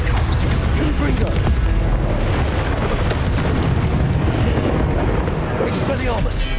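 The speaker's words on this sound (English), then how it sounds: "Confringo!" Confringo explosive spells fire during a Hogwarts Legacy battle on Switch, producing a dense, continuous barrage of loud booms, bursts and rumbling blasts for several seconds, with game voices mixed into the din.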